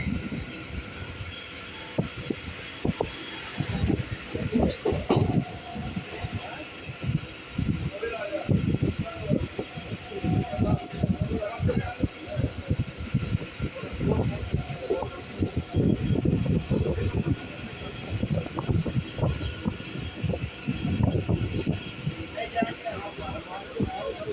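Kolkata local train running from Majerhat toward BBD Bag, a moderate rolling rattle with uneven knocks and swells throughout, under steady talking.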